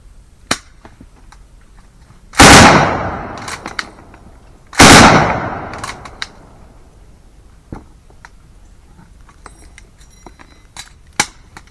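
An M240B machine gun fires two loud, separate bursts, each ringing out with a long echoing decay, followed by faint clicks and handling noises.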